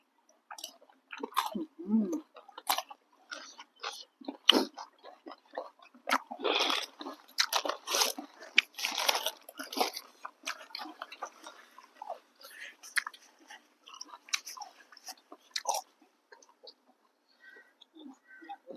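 Crunchy chewing and biting on a spicy mixed yum salad eaten with fresh raw vegetables, close and fairly loud, with bursts of crisp crunches through the clip and a little quiet talk.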